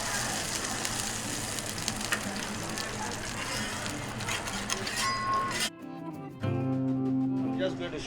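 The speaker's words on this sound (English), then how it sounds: "we pan fry here" Folded dough stuffed with meat filling and sliced onion sizzles loudly on a hot griddle at a Malaysian mamak stall, a dense steady crackle under talk that drops out briefly near the end before resuming.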